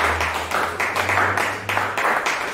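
Church congregation applauding together, a steady wash of clapping that holds at an even level from start to finish with no voices over it.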